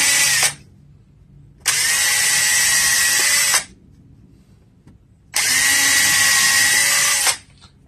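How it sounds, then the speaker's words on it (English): A power drill bores holes in treated wood trim. Two long, loud whirring bursts stop abruptly, with a short burst at the start and quiet gaps between. "I'll drill 4 holes."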